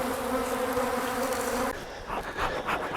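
A thick, constant drone of wild caught bees at their hive hums up close, then thins and turns more scattered near the end as individual bees buzz past.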